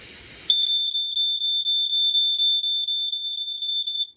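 A second-generation Sunbeam smoke alarm sounds a loud, piercing high electronic tone with a fast pulsing warble, continuous for several seconds after a brief rustle.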